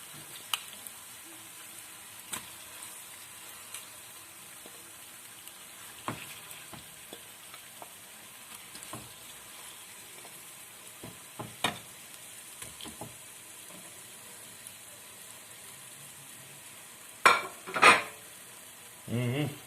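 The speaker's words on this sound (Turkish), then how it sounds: "soğan biraz kızarttıktan sonra mühürleme işlemine geçiyorum" Turkey pieces searing with red onion in a hot pan give a steady, low sizzle with scattered utensil clicks and stirring scrapes, ending with a couple of louder clatters.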